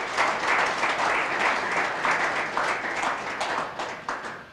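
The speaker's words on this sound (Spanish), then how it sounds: "Denle un fuerte aplauso al Señor" A church congregation applauds after a sermon, producing a sustained, dense wash of clapping from many hands in a reverberant room that tapers off toward the end.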